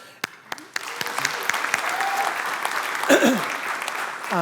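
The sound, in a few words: audience applause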